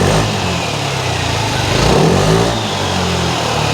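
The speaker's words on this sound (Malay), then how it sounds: "Ni pula bunyi dari bahagian exhaust ataupun muffler." A QJMOTOR ATX250X scooter engine revs loudly through its exhaust, rising and falling with throttle blips over a constant buzzing idle, close up and without speech.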